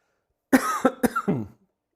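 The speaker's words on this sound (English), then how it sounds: "I've got a cough" A short burst of coughing, several rough hacking bursts in quick succession, close and fairly loud, then silence.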